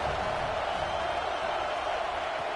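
Football stadium crowd at a Texas vs Alabama game, a steady loud roar of noise building on third down, continuous and dense throughout with no distinct peaks.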